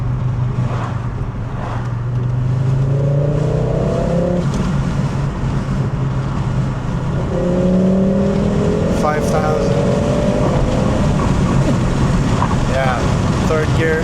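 A Volvo 850 GLT drives steadily with its engine running, a continuous low drone under road and wind rumble, with the engine note rising through the gears twice, partly under light talk.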